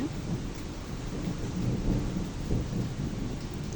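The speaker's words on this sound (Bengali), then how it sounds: "দেখেন বৃষ্টি হচ্ছে," Rain pours steadily beside a balcony while low thunder rolls underneath, a continuous wash that swells slightly toward the end, with no voices.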